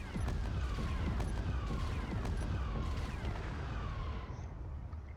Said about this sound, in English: Now let's put them into attack position and watch the X-Wing fire